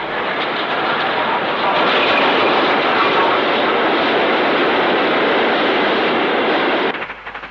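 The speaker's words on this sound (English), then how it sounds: "A down train runs through Bank Quay's platforms, having descended from Acton Grange." A down train runs through the Bank Quay station platforms after descending from Acton Grange, a loud, sustained roar and rush passing close by, then fading quickly at the end.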